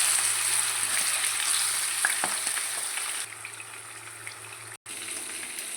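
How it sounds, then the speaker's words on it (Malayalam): Marinated tuna, a kilo cut and coated in masala, fries in hot oil with a loud, close, continuous sizzle that eases a little midway and drops out for a moment before resuming. "അതിലേക്ക് നമ്മൾ മീനിടാൻ പോകണം"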